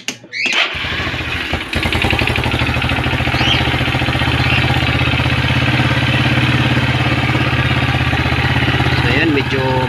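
A Yamaha Nouvo scooter's engine cranks and catches, then settles into a steady, slightly high idle with a buzzy, clattery tone. It stays close and loud throughout, with a voice talking over it at times.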